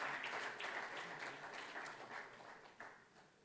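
Participants at a gender equality seal certification event applaud together, a steady moderately distant round of clapping that gradually fades over a few seconds.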